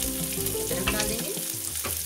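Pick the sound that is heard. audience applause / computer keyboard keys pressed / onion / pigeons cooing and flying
onion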